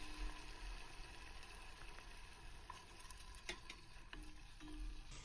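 Sofrito of chopped green pepper, garlic and tomato frying in a pan, a faint, steady sizzle with occasional crackles and stirring clicks, heard alone without any talk.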